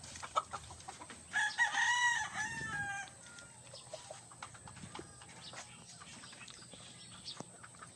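Roosters crow and cluck in a backyard coop, one clear crow rising near the start followed by scattered clucks and rustling at moderate distance, with no talking.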